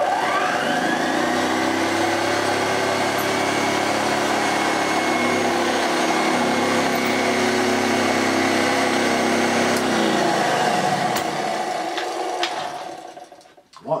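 A vintage Hoover vacuum cleaner runs on carpet with a loud, steady motor whine and whirring drone that holds constant for most of the stretch before winding down near the end.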